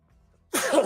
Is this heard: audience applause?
no